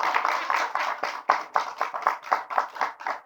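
A church congregation claps along in a steady rhythmic beat, about three to four claps per second, each burst of many hands close and clear with no talking over it.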